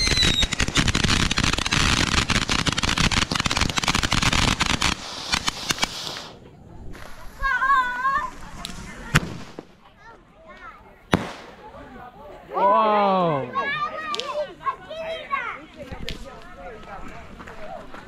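Fourth of July fireworks crackle and burst in a dense, loud barrage for about five seconds, followed by quieter moments with voices, a few sharp pops and scattered chatter.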